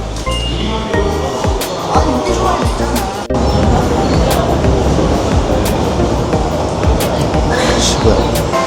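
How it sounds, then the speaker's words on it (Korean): A train arriving at a station in Tokyo rumbles loudly and continuously with rattling and clacking, steady heavy noise throughout, while people talk faintly underneath. "여 열차 온대. 여 열차 온대."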